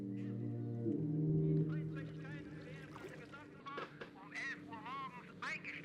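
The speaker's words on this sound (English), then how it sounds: "I heard the goose" A goose honks repeatedly in a farm scene from All Quiet on the Western Front (2022), its wavering honks rising over a low drone, with voices talking alongside.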